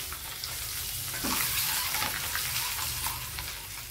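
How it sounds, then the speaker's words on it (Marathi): Eggs frying in oil with a pinch of turmeric and red chili powder for an egg korma, a steady close sizzle with occasional stirring scrapes, no voices. "जोपर्यंत लालसर कलर येत नाही तोपर्यंत आपल्याला फ्राय करायचं आहे"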